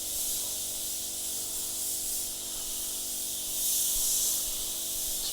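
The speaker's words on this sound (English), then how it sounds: "it's spraying reasonably well" Paint sprays from a suction-feed airbrush fitted with a 0.3mm nozzle, a continuous close hiss that swells briefly louder near the end, over a low steady hum, with no talk.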